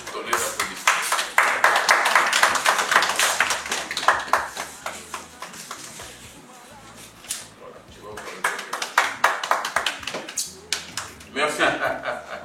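Scattered clapping and sharp taps come in uneven bursts, fading out midway then picking up again, with people talking throughout.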